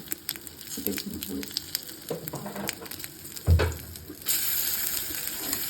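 A paste of cumin, chili and ginger fries in hot oil, sizzling and spattering close by, with stirring clatter through it. Partway through, a sharp knock sounds, and then the sizzle suddenly swells louder and steadier.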